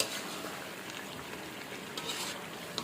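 Chicken bhuna cooking in a pan with home-ground spices and garlic, a soft continuous sizzle and bubbling throughout, fairly quiet and close, with a few brief louder spits toward the end.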